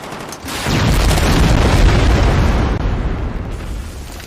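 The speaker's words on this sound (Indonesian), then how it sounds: "dengan keberaniannya, Jenderal Dostum menembakkan senjata roket ke arah musuh" A rocket fired at the enemy in a war film sets off a loud, deep explosion that blooms after a brief quiet start, then rumbles on for several seconds as it slowly fades.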